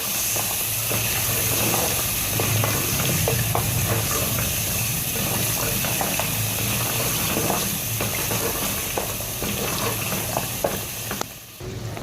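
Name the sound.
red chili powder and beef being fried together in a pot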